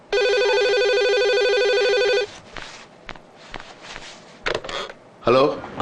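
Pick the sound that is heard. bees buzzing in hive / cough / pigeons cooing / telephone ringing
telephone ringing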